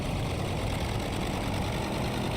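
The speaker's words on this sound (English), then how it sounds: "So now the engine's started and you're ready for taxi." Steady, even idle of a Polikarpov U-2VS biplane engine in a flight simulator, a continuous droning rumble with no other sounds.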